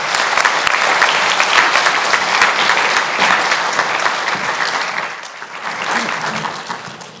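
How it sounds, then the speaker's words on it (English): Graduates at a continuing education achievement ceremony receive sustained applause from the audience, a dense steady clapping that fills the whole stretch and eases slightly toward the end. "Let's give them a round of applause and congratulations."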